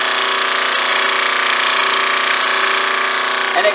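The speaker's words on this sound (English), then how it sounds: "and then I'm going to switch the saw on. It rapidly moves up and down." A scroll saw runs steadily, its blade moving rapidly up and down with a dense buzzing drone and fast vibration as it cuts wood, loud and close, with a slight change in tone at the very end.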